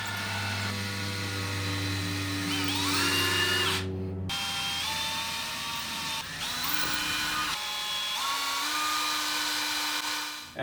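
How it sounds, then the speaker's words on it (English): A power drill bores holes into scrap wood for homemade wooden ties, a steady loud whine with pitch shifts and a short pause partway through, close up and without talk. "after drilling out the holes"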